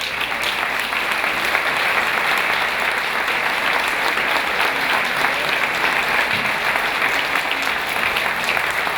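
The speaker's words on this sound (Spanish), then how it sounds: "Un aplauso para él, por favor." Sustained audience applause for a speaker from En Comú Podem at a Podemos Asturias political event, a dense, steady clapping from a large crowd holding at even loudness for the full stretch.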